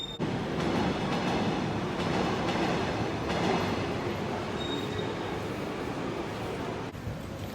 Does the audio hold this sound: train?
yes